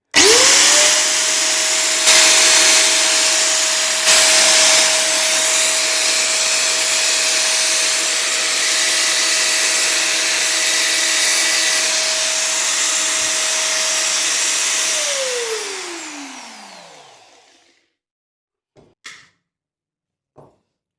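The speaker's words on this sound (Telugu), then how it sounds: "ఇప్పుడు ఒకసారి మిషన్ సౌండ్ చెక్ చేద్దాం." A Bosch GWS 800W angle grinder with a 4-inch disc, rated at 11,000 RPM, spins up to a loud, steady high-pitched whine, runs for about fifteen seconds, then winds down to silence, followed by a few faint clicks.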